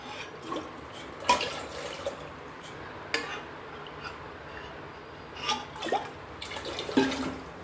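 Water is poured into a pot while making kadi thuli, a faint splashing and trickling with a few louder drips and splashes over a steady low background hiss.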